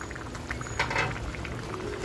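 Crab curry in black masala bubbles in an uncovered pot, a close, continuous gurgling simmer with soft popping bursts.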